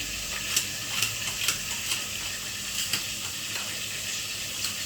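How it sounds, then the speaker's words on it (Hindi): Steady sizzling of chickpea and potato curry without onion or garlic frying in a pan, with soft crackles and a few louder pops now and then, continuous and fairly close. "दोस्तों बगैर प्याज लहसुन वाली छोले आलू की सब्ज़ी छोड़ दी है हमने।"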